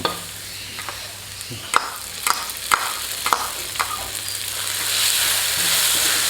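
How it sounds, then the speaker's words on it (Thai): Garlic is stir-fried in a pan for a Thai chili sauce, a faint sizzle running underneath several sharp scrapes and knocks of a utensil against the pan, with the frying hiss swelling toward the end. "ผัดกระเทียมก่อนครับท่านผู้ชมครับ"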